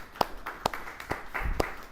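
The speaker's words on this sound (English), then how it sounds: "Let's give yourself a round of applause for showing up today." A few sharp hand claps at a slow, steady pace, close and sparse rather than a full crowd.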